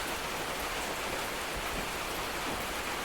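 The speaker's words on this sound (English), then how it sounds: "Oh, is the rain too loud" Heavy rain falls in the Escape the Backrooms game, a steady, dense hiss that holds evenly throughout with no voices over it.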